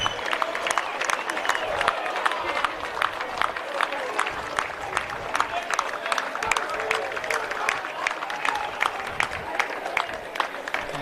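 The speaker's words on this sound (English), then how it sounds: "So a raucous applause from their home faithful." Home supporters clap and cheer as the Randwick colts rugby side runs out for a third-grade grand final, crisp individual claps over a crowd roar, with a commentator talking over the steady applause.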